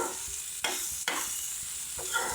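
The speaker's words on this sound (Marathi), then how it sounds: "चला तर आपण आता याच्यात भेंडी टाकूया। छानपैकी अशी परतून घेऊया।" Okra sizzles in a hot pan as it is stir-fried, with a steady frying hiss broken by a few sharp scraping stirs of the spatula, close and fairly quiet, with no voices.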